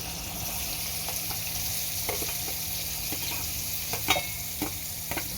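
Chopped onion frying in hot oil with ground cinnamon, cardamom and cloves over a high flame, a steady close sizzle with light scraping stirs and occasional soft clicks.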